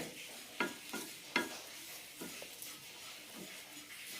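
Roasted coriander powder and coconut fry in a pan with a faint sizzle, broken by several sharp scraping strokes of a spoon stirring the mixture, up close and without talk.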